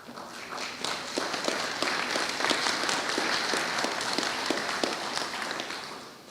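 Steady, moderately close applause from an audience at a Wildlife Trust AGM, many hands clapping continuously for several seconds before tapering off at the end.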